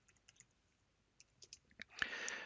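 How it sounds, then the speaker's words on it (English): Keyboard keys tapped in quick, sparse clicks while typing a pacstrap command into a Linux terminal, faint and close, followed by a louder burst of continuous clatter at the end. "I'll type in pacstrap"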